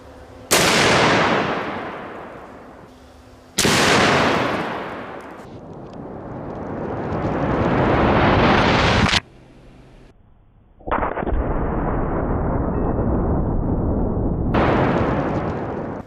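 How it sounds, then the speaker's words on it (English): Large-calibre gunshots fired outdoors, three or four loud, sharp blasts each followed by a long rolling echo that decays over several seconds, with no speech. "We're about to pull the trigger again."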